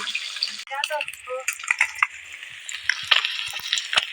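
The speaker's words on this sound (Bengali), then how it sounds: "এইভাবে মরমরে ভাজা হয়েইছে এবার আমি নামিয়ে নেব" Pieces of snakehead fish fry crisp in a pan, crackling and sizzling close by as they are turned, with short bursts of scraping and spatter.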